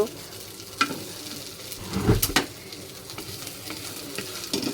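Beef marrow frying in a pan with a crackling sizzle, sharper pops and stirring scrapes now and then, heard up close with no talking.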